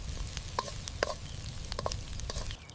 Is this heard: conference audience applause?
no